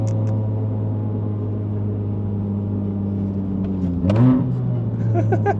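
A Honda Fit GK5 facelift RS with a six-speed manual drones steadily through an aftermarket muffler, then gives one short rev blip near the end before settling back to a constant rumble.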